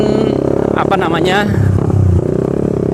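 A Suzuki Satria Fi150 motorcycle fitted with a racing exhaust runs on a test ride, its loud, close engine throbbing steadily under a man's speech.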